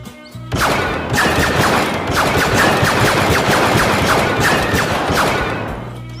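A DL-18 blaster prop pistol fires a long, dense stream of rapid electronic shots, loud and close, continuous for several seconds before tailing off.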